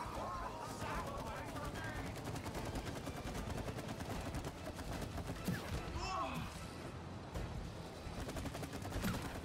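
Gunfire from shooting in the co-op game It Takes Two, a steady stream of rapid shots lasting throughout, with players talking over it.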